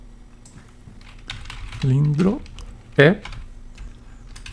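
Computer keyboard typing during a Python programming lesson, with quiet scattered key clicks under a steady hum, interrupted by two short spoken sounds from a man.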